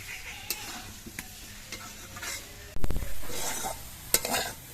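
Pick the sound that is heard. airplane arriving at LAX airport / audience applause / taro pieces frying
taro pieces frying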